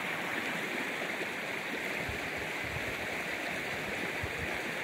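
A Tennessee stream, running full after recent rain near a campground, rushes and gurgles in a steady, moderately faint wash with no talking.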